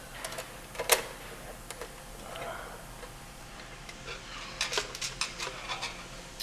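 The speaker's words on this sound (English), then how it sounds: "7/16 wrench to fasten the counterbalance to the top of the guide tube plates" A 7/16 wrench fastening a counterbalance to the guide tube plates of a Safety Speed panel saw: scattered faint metallic clicks and ticks, with a short burst of rapid clicking near the end over a quiet background.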